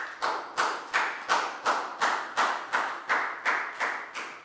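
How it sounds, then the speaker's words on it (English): About a dozen evenly spaced, sharp group claps ring out in a classroom, each a crisp burst that quickly fades, with no talking over them. "Big round of applause for Prel,"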